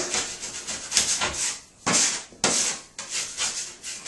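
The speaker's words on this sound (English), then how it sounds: "we're going to take our knife and scrape off the extra mud" A drywall knife scrapes excess joint mud off a wall during a nail pop repair, several rough, bursty strokes up close with short pauses between them.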